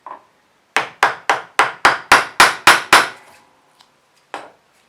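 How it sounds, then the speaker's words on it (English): Eight sharp metallic taps from a small hammer on a BMW Bing CV carburettor in quick, even succession, followed by a couple of isolated lighter knocks after a pause. "And again, small hammer"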